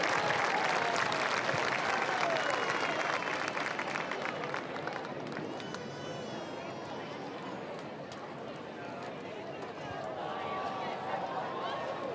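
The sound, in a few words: crowd applause for homecoming king, queen and coach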